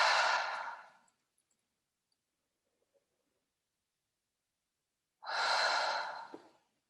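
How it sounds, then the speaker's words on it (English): A person takes a deep breath in, then later exhales audibly through the mouth. Two close, soft, airy breaths are separated by several seconds of silence. "Take a couple of deep breaths in complete naturalness, and exhale through the mouth."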